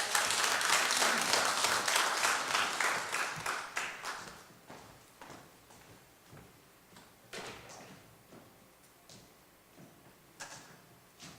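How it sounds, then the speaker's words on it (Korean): A church congregation applauds to welcome a pastor at a New Year revival service at a Korean United Methodist church in Oakland; loud, dense clapping fills the first few seconds, then fades into scattered claps. "박수로 환영하겠습니다"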